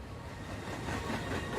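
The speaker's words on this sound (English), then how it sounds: "Trains." A train rolls along railway tracks, a continuous rumbling roar with faint rhythmic clatter that builds slightly in loudness over its short span, with no talking.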